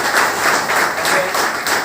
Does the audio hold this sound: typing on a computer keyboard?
no